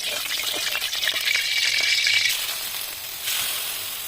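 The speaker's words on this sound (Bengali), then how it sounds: "প্রথমে আলুটাকে দিলাম কড়াইতে" Potatoes frying in a hot wok (kadai), a bright crackling sizzle with stirring scrapes that eases off midway and then swells again near the end, heard alone.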